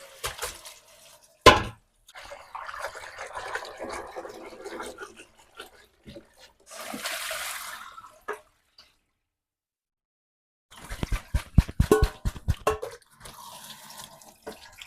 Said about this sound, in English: So now we're gonna give them a good rinse in water.